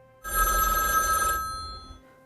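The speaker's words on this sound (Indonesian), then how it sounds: "Tak lama telepon berdering kembali." A public pay phone's bell rings in one sustained burst of about a second, loud and close, then cuts off and leaves a short fading tail, with no talk over it.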